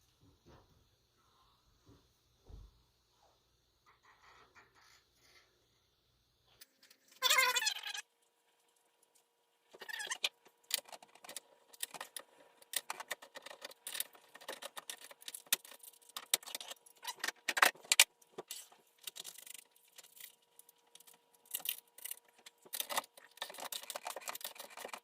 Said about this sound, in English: Taking the barrel off.